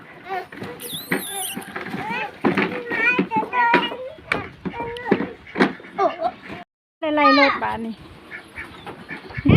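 Ducks quack nearby among excited children's voices and squeals, with people talking throughout.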